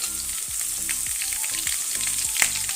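A potato curry masala with fresh grated coconut and turmeric roasts in a pan, with constant bright sizzling broken by repeated scraping strokes of a spatula.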